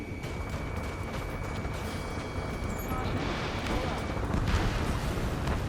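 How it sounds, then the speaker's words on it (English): Dense, continuous gunfire and roaring jet engines fill a street battle in the Ace Combat 7 flight combat video game, a loud steady wash of rattling shots and rumble with radio voices talking over it. "gunfire and the roar of jets echoing through the streets"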